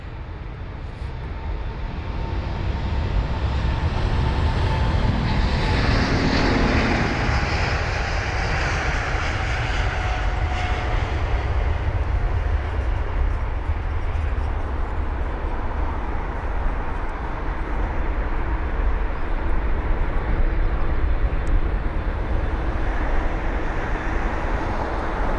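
An Airbus A350 airliner at London Heathrow gives off a loud, sustained jet engine roar that swells in the first few seconds and then holds strong and steady for the rest, with no talking.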